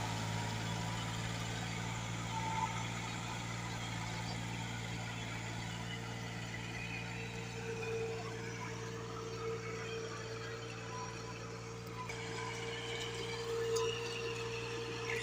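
A Massey Ferguson 260 tractor dragging a heavy 12-foot leveling plank through a waterlogged field, its engine a steady low drone with a constant hum, running evenly without pause.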